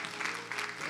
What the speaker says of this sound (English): Oh, clap for Jesus.